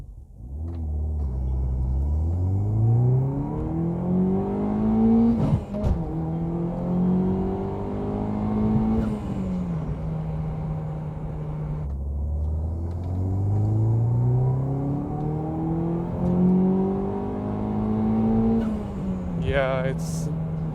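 Peugeot 207 GTI with a stage 1 tune accelerating from 0 to 100 km/h, engine rising steadily in pitch through two long gear pulls with a shift between, loud in-cabin rumble with faint talk.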